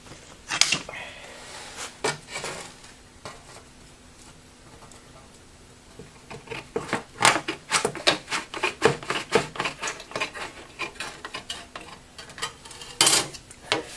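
Metal is snipped with hand shears to cut out a sap bag holder piece for maple syrup collection, heard as a run of sharp, irregular clicks and snips that grow denser toward the end.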